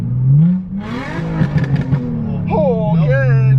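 A car engine revs hard and climbs to high RPM after a coil pack replacement, the pitch rising and falling in sweeps, close and loud, with people talking over it.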